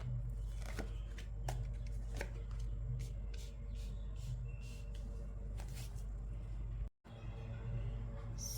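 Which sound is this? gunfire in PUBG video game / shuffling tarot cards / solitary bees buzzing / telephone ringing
shuffling tarot cards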